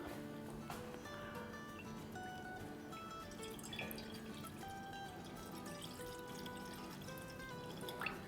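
Milk is poured into a pan on a stove over medium flame, a soft steady liquid pour running quietly and continuously under faint background kitchen noise.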